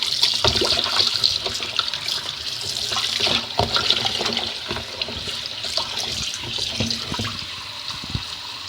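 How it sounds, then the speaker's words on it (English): Running tap water splashes steadily onto raw pork being rinsed in a sink, with occasional knocks and shifting sounds from handling the meat, close and with no voices. "So I'm just going to wash the meat. Now we will rinse it."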